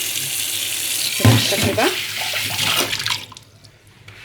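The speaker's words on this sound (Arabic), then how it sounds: "اهي ندلق ميه" Water is poured out in a kitchen while the sink is being cleaned, a close, splashing rush that swells, runs for a few seconds and then tapers off, with someone speaking over it.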